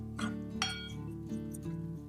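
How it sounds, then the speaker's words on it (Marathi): A spoon stirs turmeric into a hot tempering of dried coconut in a pan, making a quick run of metallic clinks and scrapes close by. "हलवून घ्यायचं"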